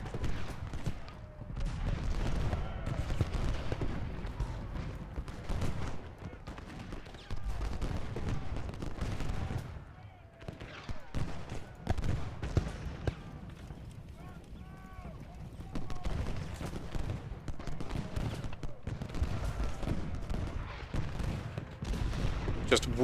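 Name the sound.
gunfire and musket volleys in the video game Ultimate General Gettysburg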